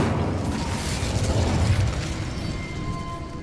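A fire spell burst from the Hogwarts Legacy video game roars as a loud, crackling, rumbling whoosh that swells and then tapers over a few seconds, with faint mechanical clicks in the mix.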